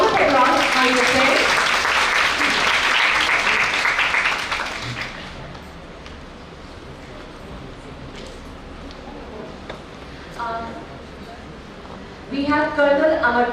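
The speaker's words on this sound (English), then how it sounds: "A round of applause for your friends" Applause from a conference audience as guests take their chairs onstage; a loud, dense burst lasts several seconds, then fades into quiet room tone before a voice speaks near the end.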